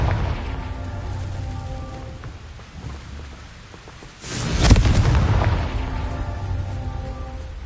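A Confringo spell explosion in the Hogwarts Legacy video game bursts as one loud, sharp boom with a rumbling tail midway, set against a steady background hiss like rain.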